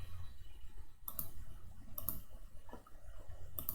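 A computer mouse clicks a few times, sharp and faint, spaced apart across a quiet, low background hum.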